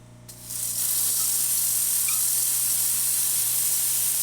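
A Rancilio Silvia espresso machine's steam wand bursts open after a brief click, then hisses loudly and steadily over a low electrical hum.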